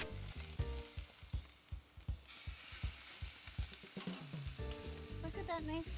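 Pork chops searing on a hot grill over medium-high heat, a loud dense sizzle close up with a rhythmic series of low thumps and scrapes, then a brighter hiss near the end.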